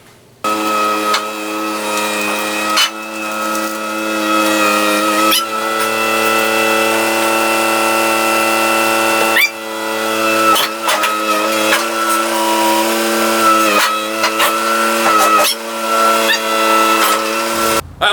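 A 1966 Chevrolet C60 dually truck, once a dealership wrecker, runs loud and close as it is driven onto a lift, its engine note rising and dipping through several revs and pauses.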